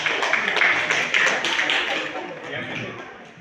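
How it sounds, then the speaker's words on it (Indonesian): Classroom audience claps for a student group after its presentation, a brisk burst of many hands clapping that is strongest at first and gradually thins out over a few seconds. "tepuk tangan untuk kelompok"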